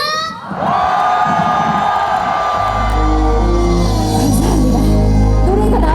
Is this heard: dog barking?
no